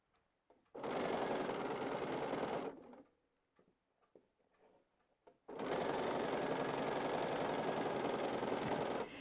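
A sewing machine stitches fabric in two long, loud bursts of fast, even whirring, separated by a quieter gap with faint handling sounds in the room.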